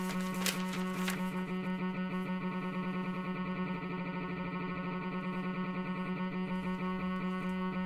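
Sampler recreation of an accelerating tremolo passage from Wagner's Tannhäuser, with dense rapidly repeated orchestral notes blurring into a shimmering sustained texture after a couple of sharp attacks at the start.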